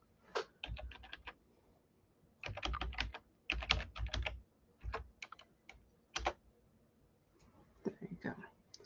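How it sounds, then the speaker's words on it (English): Typing on a computer keyboard in irregular bursts of rapid, close clicks separated by short pauses, with a faint voice at times. "I'll type it in the comments."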